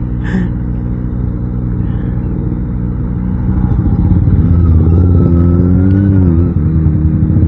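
A Kawasaki Ninja ZX25R sport motorcycle rides through dense traffic with a loud, close, steady engine drone whose pitch rises and falls with the throttle, over constant road and wind noise.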